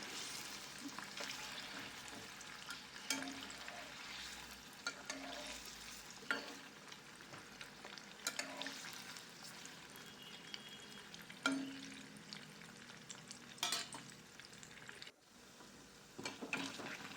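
Cubes of paneer shallow-frying gently in a kadhai of oil on low heat, a quiet steady sizzle broken by intermittent stirring knocks and crackles.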